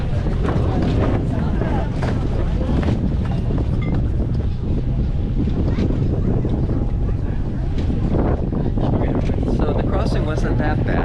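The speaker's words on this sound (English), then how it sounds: "So they have to do their work, take down the sail." On a catamaran off Mauritius, a crew takes down the sail amid loud constant wind and rushing water, with heavy microphone buffeting and voices talking throughout.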